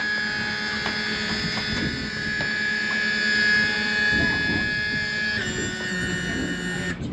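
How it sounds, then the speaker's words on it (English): Outboard engines on a Beneteau Antares 11 boat tilt down with a steady electric hydraulic whine of layered tones, shifting pitch partway through before stopping. "So here you go, engines drop down."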